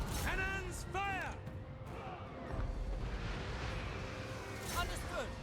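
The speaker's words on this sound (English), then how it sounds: "Cannons fire!" Cannon fire in the Total War: Warhammer 2 video game, with Empire cannons booming in a dense, rumbling battle din of several heavy blasts and crashes over about five seconds, and a voice talking over the top.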